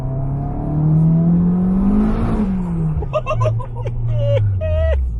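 A turbocharged all-wheel-drive Honda Element revs hard in first gear, its engine note sweeping up and then falling away, heard from inside the cabin as people talk over it.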